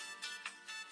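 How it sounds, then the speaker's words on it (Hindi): A phone ringtone chirps in short repeated bursts, four quick rises spread over a second, fairly faint and heard alone indoors. "तनवीर का फोन आ रहा है, अल्लाह खैर करे"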